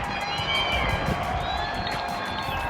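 A crowd outdoors claps and cheers for hospital staff, a continuous dense wash of applause with scattered shouts and voices mixed in.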